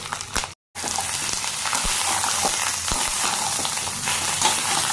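Ground spice paste of cumin, ginger, dried chili and turmeric with tomato and onion paste sizzling loudly in a pan for egg curry, a dense, steady frying hiss with a short break near the start and occasional stir clicks.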